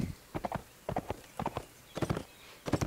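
Horse hooves clip-clop in a steady galloping rhythm while riding through Mirkwood Forest in The Last Days mod, with repeated close, clear bursts of hoofbeats and no talk.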